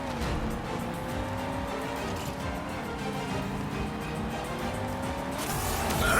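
Car driving in the video game Skylanders SuperChargers: a steady engine drone with shifting revs runs throughout, rising louder near the end, with no talking.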